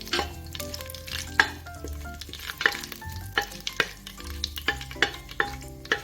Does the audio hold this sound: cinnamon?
yes